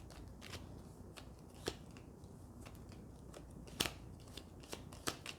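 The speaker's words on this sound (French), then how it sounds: "moi j'ai tiré 3 cartes et on va mélanger ces cartes" Tarot cards shuffled by hand, faint soft riffling with occasional sharper snaps and slaps, close and quiet with no talk.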